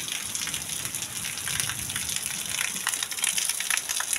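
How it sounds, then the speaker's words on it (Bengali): Heavy rain pouring down during a hot spell, a dense continuous hiss of drops pattering on surfaces, steady and close with no voices. "কত জোরে বৃষ্টি হচ্ছে।"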